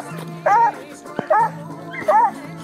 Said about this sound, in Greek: Ο νομάχος ξυπνάει τα σκυλιά.